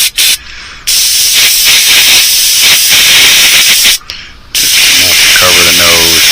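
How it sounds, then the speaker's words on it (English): Airbrush or spray paint hisses across the noses of fishing lures in loud, sustained blasts broken by two short pauses, with a voice speaking over the final burst. "I'm going to give them all just a little blast across the top of the nose"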